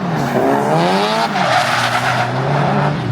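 A drift car at a weekend drift event screams through a long tyre squeal, wavering pitch over a loud, close engine drone, continuous for the whole stretch without talk.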